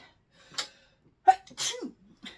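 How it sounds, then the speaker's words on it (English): Two quick sneezes close to the microphone in a dusty studio, the first sharp and short, the second longer and breathier, separated by a moment of quiet. "as you can tell from the sneezing"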